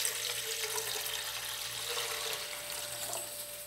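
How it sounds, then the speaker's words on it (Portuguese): Water poured from a tap into a couscous steamer pot in a kitchen, a steady close rushing stream with no talk. "Agora eu vou colocar a água para cozinhar o meu cuscuz."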